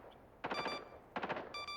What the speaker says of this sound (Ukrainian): Щоб боти тупо без перестанку стріляли.